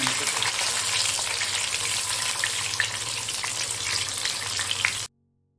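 Masala-coated fish fries in oil with curry leaves for an Arabic fish biriyani, a loud, dense crackling sizzle with scattered pops that holds steady and then cuts off abruptly near the end.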